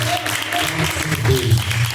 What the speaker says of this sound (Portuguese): As palmas que louvam o nome do Senhor.